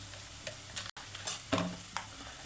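Onion curry sizzles and fries in a pan while a spoon stirs and scrapes, with soft clicks and crackles over a steady hiss.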